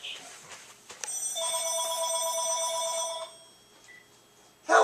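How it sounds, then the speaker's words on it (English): A phone rings with an incoming call, a bright electronic ringtone repeating for about two seconds at moderate volume, fading out before a brief sharp sound at the end. "Call from Anthony"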